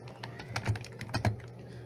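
Quick, irregular keystrokes clatter on a computer keyboard as router settings are entered, a short burst of close, crisp clicks with slight pauses between them.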